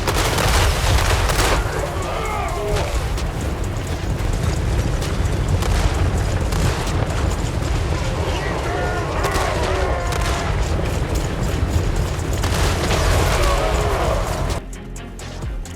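Dwarven gunships in the Warhammer 3 video game fire front cannons and crank guns in a dense, continuous barrage of booms and rapid gunfire that lasts throughout, with battle noise blended underneath.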